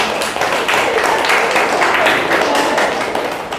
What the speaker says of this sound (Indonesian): berikan tepuk tangan untuk kelompok